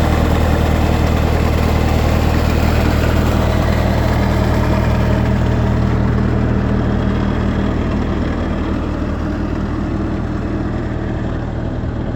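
A Bobcat 753 skid steer loader sits idling, its engine giving a steady, loud low rumble with constant vibration that holds unchanged for the whole stretch, close by and without any talk.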